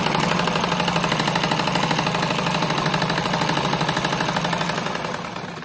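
A sewing machine runs a fast, steady stitching rhythm along a seam on a rug made from small fabric scraps, loud and close, slowing slightly at the end.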